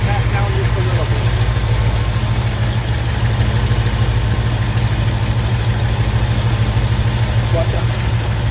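A 1978 Ford F150 pickup engine idles close by, a steady, continuous low rumble that holds an even pitch throughout with no revving.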